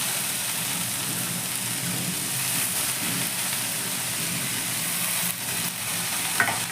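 Chopped water spinach greens hit a hot pan and fry with a steady, even sizzle throughout, near and moderately loud, with a brief clink of a utensil toward the end.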